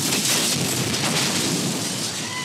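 Heavy rain pours in a dense, steady hiss with a low rumbling undertone that suggests distant thunder, continuous throughout with no voices.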